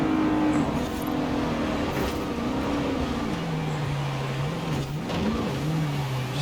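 A car engine in Forza Horizon 4 drones steadily at high speed, its pitch holding, dipping and climbing again as it accelerates, loud and close with no talk.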